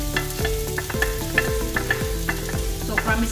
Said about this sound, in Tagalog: Once na mainit na yung ating oil sa ating pan, ilalagay na natin yung ating onion.